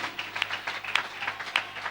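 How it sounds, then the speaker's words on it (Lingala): A church congregation claps and cheers for Jesus Christ during a Sunday service, a steady wash of applause with scattered sharper claps and whoops, moderately loud and continuous without any speech. "Acclamez pour Jésus-Christ."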